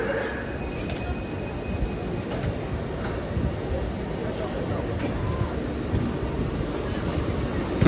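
A train pulls into a station in Kuala Lumpur with a continuous rumbling roll and faint wheel squeal, steady and fairly near, while people talk over the noise.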